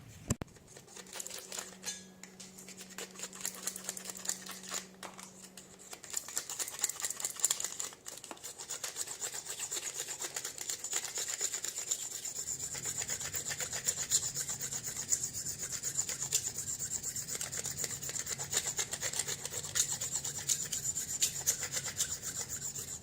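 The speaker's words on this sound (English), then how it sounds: "All you use is a box knife and kind of run the blade at a lower angle so you don't gouge into the carbon there." A box knife scraping old fletching and glue residue off a carbon arrow shaft, a steady close rasping rub that runs continuously with small clicks and scratches throughout.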